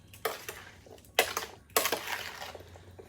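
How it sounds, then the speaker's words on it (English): Berries with sugar and lemon juice are stirred in a bowl, a spoon scraping and clinking against the sides in a few uneven strokes, close and fairly quiet. "give this a quick stir until it's well incorporated"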